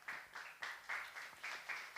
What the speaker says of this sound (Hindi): हालेलुया। ताली बजाएंगे एक बार,